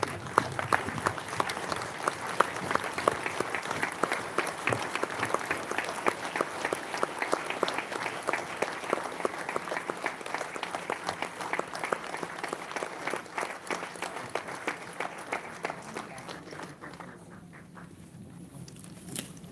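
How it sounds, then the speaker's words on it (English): Audience applause at a book launch for the 5th edition of 'Fish, Curry and Rice', a steady, dense clapping that runs loud for most of the stretch and then thins out and fades near the end. "I think the book deserves, the release deserves a standing ovation."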